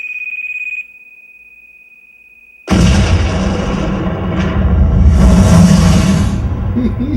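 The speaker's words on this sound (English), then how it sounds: "That's a good explosion." A loud, sudden explosion effect bursts in after a short steady tone and near silence, then rumbles and roars on for several seconds with a second surge of crackling blast noise.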